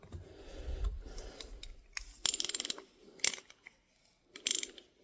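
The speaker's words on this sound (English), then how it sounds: "It's catching and ratcheting." A ratchet mechanism catches and ratchets in both directions, giving quick bursts of sharp metallic clicks separated by short pauses, heard up close and alone.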